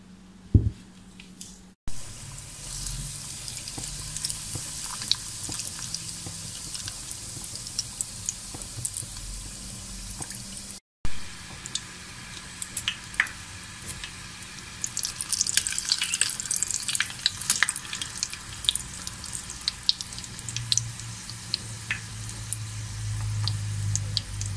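Crispy chicken thighs fry in hot oil with a steady crackling sizzle and scattered pops over the full length, no talking, with a couple of brief dropouts.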